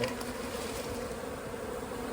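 A honey bee swarm buzzes around a hive box, a dense steady hum of many wings holding close and even for the whole stretch, with no voices.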